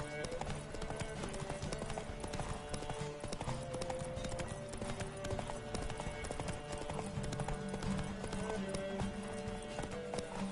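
A horse gallops in the video game The Witcher 3 with a steady, continuous clip-clop of hooves under a game soundtrack at moderate, even loudness throughout.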